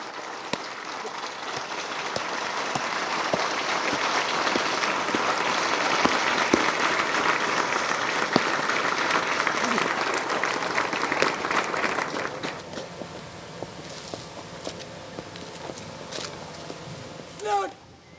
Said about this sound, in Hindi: दर्शकों से निवेदन है, एक बार जोरदार तालियों से अभिवादन करें।